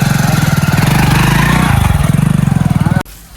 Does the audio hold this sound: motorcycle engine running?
yes